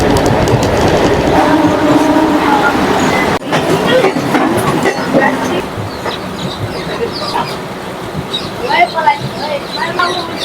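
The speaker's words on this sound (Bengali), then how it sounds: "বিশাল স্পিডে যাচ্ছে, মনে হচ্ছে না লোকাল ট্রেন বলে, এক্সপ্রেসের মতো যাচ্ছে" An Adra–Barkakana MEMU local train runs at high speed, a loud steady rumble with rhythmic clickety-clack of wheels on rails, a sharp jolt partway through, and scattered lighter clatter; voices are heard over the noise.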